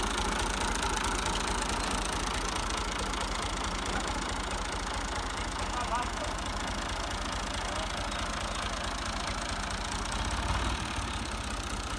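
A tractor drives a chaff cutter through a shaft on a farm, its engine running in a steady, even drone throughout with no break or change in load.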